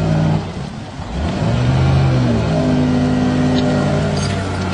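A vehicle engine revs up close by as a boat trailer is backed up a ramp toward a boat, a rising acceleration that settles into a steady engine hum.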